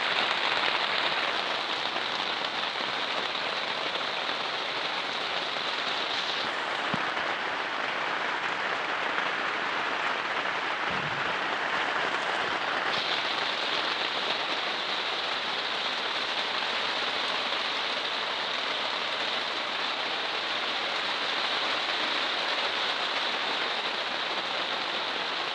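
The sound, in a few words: rain falling on polytunnel roof during thunderstorm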